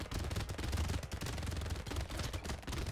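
A tier 2 SMG in Brotato fires nonstop, a dense rapid rattle of shots with no pauses, fairly close and loud and with no other sound on top.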